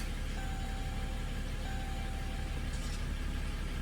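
Diesel Jeep Grand Cherokee WK2 engine idling just after starting, fresh from a fuel filter change: a steady, dense low rumble with faint whine tones, continuous and close throughout, no speech.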